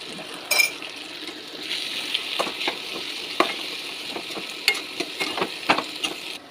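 Banana thoran frying in a pan while it is stirred, a continuous close sizzle broken by irregular scraping strokes and soft clicks, with no talking.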